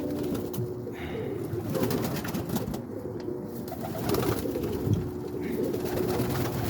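Roller pigeons coo steadily inside a close loft, a continuous low, throaty murmur of several birds overlapping throughout with slight swells in loudness.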